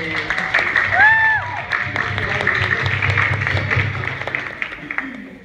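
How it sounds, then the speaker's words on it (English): Audience applause and cheering for a hula hoop act at an Indiana's Got Talent audition, a dense sustained clapping crowd with whoops, while a voice speaks over it. "Y'all give it up for Angel and Wood."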